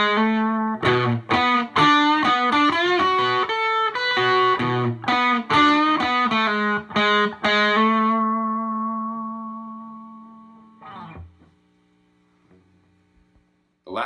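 Distorted electric guitar plays an opening riff, quick rhythmic picked notes and chords for about ten seconds before a sustained final chord rings out and decays, heard alone without talk.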